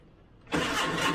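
An old tractor engine cranks and catches on a farm feedlot, a low murmur suddenly bursting into a loud, close roar of the engine firing up.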